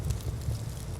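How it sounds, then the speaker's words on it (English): A crackling fire sound effect in Unreal Engine, a faint, steady low rumble with soft flickering crackles, quiet and continuous. "There's a fire sound here,"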